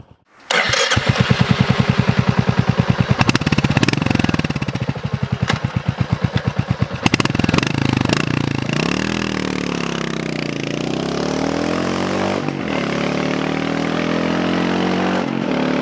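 Royal Enfield HNTR 350 motorcycle engine running close by, starting with a rapid pulsing thump that revs and settles into a steady loud drone while riding on- and off-road, with no talking.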